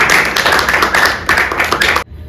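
Audience applause at a stage play performance, dense steady clapping from many hands that cuts off abruptly near the end, recorded fairly close.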